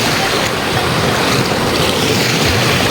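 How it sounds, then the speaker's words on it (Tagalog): Rough ocean surf at a chocolate-sand beach, a steady loud roar of breaking waves with constant wash and wind buffeting the microphone, close and continuous with no voices. "Nakakatakot ang alon."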